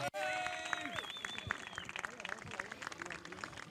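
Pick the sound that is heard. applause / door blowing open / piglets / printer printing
applause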